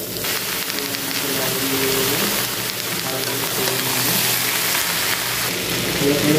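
Water goes into a hot kadai of oil and potatoes as Bengali chichinga alu posto cooks on a gas stove. A continuous loud sizzling hiss fills the whole stretch with a fairly even level.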